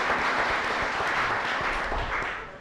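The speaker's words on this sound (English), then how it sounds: "Give him a big round of applause." A brief burst of dense clapping from an audience at a chef cooking competition, fairly soft and even, fading out over a couple of seconds.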